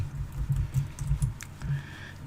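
Rapid keystrokes on a computer keyboard, a close, quiet patter of uneven taps in quick bursts with short pauses, no voices.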